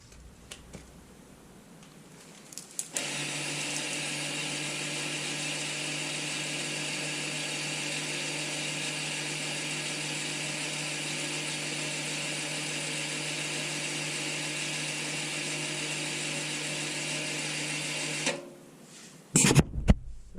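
An Audi B8 electronic parking brake motor retracts on command from a phone diagnostic app, a steady electric whir running unbroken for about fifteen seconds before cutting off, followed by a few faint clicks.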